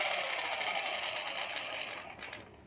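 A Vevor electric hydraulic jack's motor runs steadily near the mic with a continuous whirring drone that eases off slightly toward the end.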